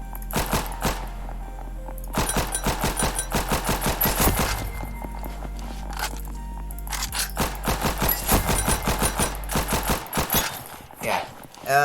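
Semi-automatic rifle in Ragdoll Universe firing rapid, evenly spaced sharp shots in long strings, loud and close, with brief pauses between volleys.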